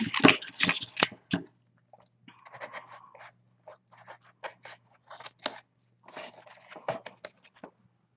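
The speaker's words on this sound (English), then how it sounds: "So give this a little trim right here to make it line up." Scissors trim through a gift bag in short bursts of crisp snipping and crunching paper, loud and close, with quieter scratchy cutting strokes in between and brief pauses.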